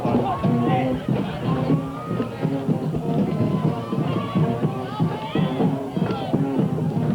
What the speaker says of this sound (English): So now the crowd stands up and dances